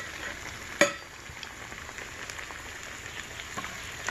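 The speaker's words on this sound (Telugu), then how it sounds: "2 నిమిషాల సేపు దాకా బాగా ఆయిల్లో ఉడికినాక" Bread cutlets frying in hot oil make a steady crackling sizzle close by, with one sharp clink of a utensil near the start and no voices.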